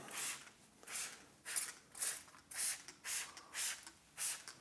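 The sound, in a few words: spraying touchless sealant onto a wet car panel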